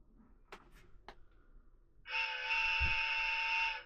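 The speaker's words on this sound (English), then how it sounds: "There's that train again." A train horn blares a long, steady tone nearby, starting partway through after a few sharp clicks and knocks from wiring work on a Trek Farley 5 fat bike e-bike conversion in a home workshop.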